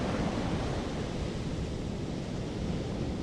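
Steady surf rolls onto a beach at night, a continuous broad rush of breaking waves close by with no distinct pauses, unbroken by any voice.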